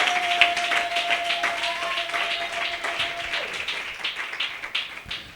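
A church congregation at a French-language worship service claps in steady, overlapping applause, a dense patter of hands continuing for several seconds, with a sustained tone fading out partway through.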